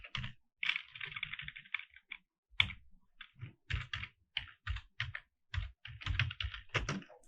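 Code being typed on a computer keyboard for a Bootstrap CSS grid tutorial: quick, irregular clusters of crisp key clicks with brief pauses between bursts, close and fairly quiet, with no one talking.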